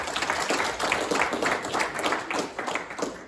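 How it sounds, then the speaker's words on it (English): A room at a high school sports awards night claps for student readers. The applause is brief and steady, with a crowd's overlapping claps throughout. "if we could get a quick round of applause for all of our readers"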